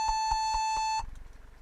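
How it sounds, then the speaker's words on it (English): Four evenly spaced, high electronic beeps from a Compaq Presario F500 laptop at startup ring out in a steady rhythm, then stop, leaving a faint low rattling hum. "And it's still beeping."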